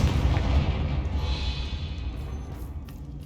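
A fire spell in the video game Hogwarts Legacy bursts into a deep, booming explosion that hits loud at the start and then rumbles away over a few seconds.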